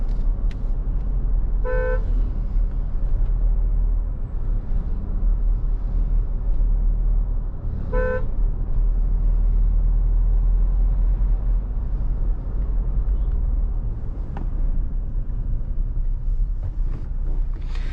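Steady roar of Indian highway traffic with engines rumbling close by, broken by two short car horn toots several seconds apart.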